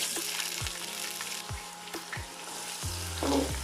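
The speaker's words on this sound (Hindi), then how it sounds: "ऑयल गर्म हो गया, अब इसमें मैं प्याज डाल दूंगा।" Sliced onions hit hot oil for a mutton pulao, giving a loud, constant sizzle. A few soft low thumps from the pan come through under it.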